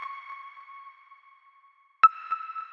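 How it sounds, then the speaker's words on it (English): A synth pluck from a stock Serum preset stepping down in pitch, clean sparse tones with a soft echoing tail, a short silent gap, then a sharp attack and the next note ringing on, alone with no voice. "So I found a pluck in the stock Serum presets."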